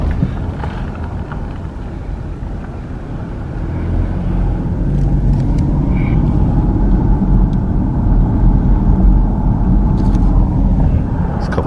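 A car drives through a small rural Texas town, its steady low engine and road rumble running throughout and growing slightly louder partway, with some wind buffeting.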